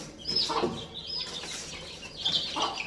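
Soft clucking of a large hen, about two kilograms, with some rustling or flapping, fairly quiet and close, in a few short bursts.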